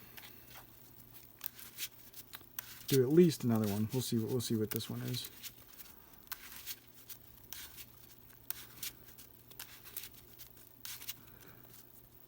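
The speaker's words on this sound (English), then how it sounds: "let's get shuffle up" A Yu-Gi-Oh card deck is shuffled by hand in a quiet room, with soft, irregular riffling and tapping over several seconds while someone speaks briefly nearby.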